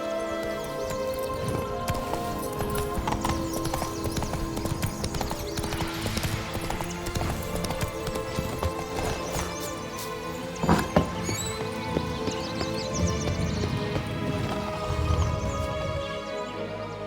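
A horse gallops in The Witcher 3 Next Gen Blood and Wine, its rapid rhythmic hoofbeats running steadily under game music and ambience, with a brief snort or whinny midway.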